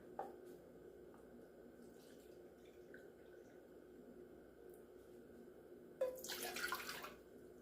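After a quiet stretch with low background hum, a cup and a half of water pours briefly and splashes into a pot for Spanish rice, close and moderately loud near the end.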